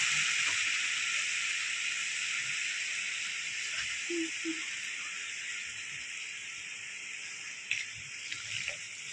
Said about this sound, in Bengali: এবার দিয়ে দেবো পরিমাণ মতো জল, আরও একটু জল দেবো।